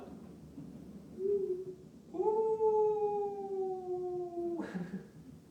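A person imitates a werewolf howl during a Pilates session, a brief tentative note then a long sustained howl held steady for about two seconds, ending with a breathy release, close and clear.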